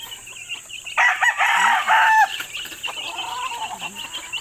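Chickens with chicks clucking and a rooster-like call in a farmyard, one loud burst of calls standing out over softer scattered clucks and peeping.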